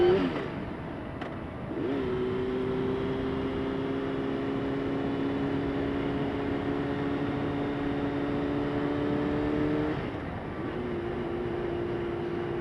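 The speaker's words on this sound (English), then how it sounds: "We are riding down the street." A motorcycle cruises down a street, its engine droning as a steady close hum that rises in pitch, dips near the end, then settles again, with wind noise underneath and no talking.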